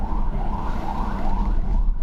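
An ambulance siren wails on a busy street in Pasig, its rising and falling tone loud and close over a constant low traffic rumble.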